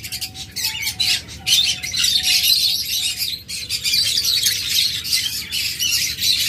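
Pet cockatiels and lovebirds kept for breeding, squawking and chirping loudly and repeatedly at close range, with overlapping shrill calls and no pause in the chatter.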